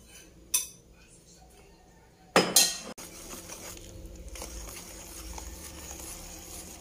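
A utensil clinks and scrapes in a bowl while banana loaf batter with vanilla is mixed, with a sharp knock early on, a loud clattering burst, then softer steady stirring.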